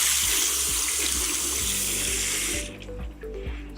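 Water running from a tap in a lab while a test strip is dipped for a water hardness check. A steady, loud rushing stream cuts off near the end, leaving a few drips and low mechanical hum.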